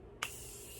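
Makeup setting spray bursts from a pump bottle in one short, close spritz that trails into a soft, steady hiss.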